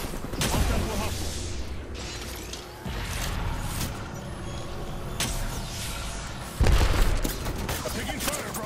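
Rapid gunfire crackles through an Apex Legends firefight, steady and dense with a heavier burst near the end, layered with game noise and a voice speaking.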